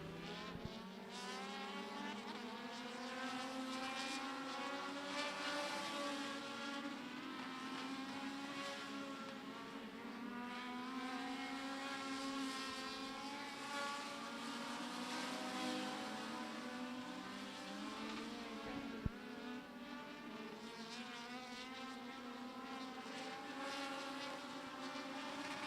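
Local-class race cars circle Florence Speedway during qualifying, several engines roaring together in a dense, sustained, rising and falling drone that stays loud throughout.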